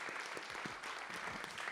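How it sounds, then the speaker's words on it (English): Audience at the close of a live music event giving a short burst of steady, even applause, moderately distant and continuous throughout. "please give a round of applause for them"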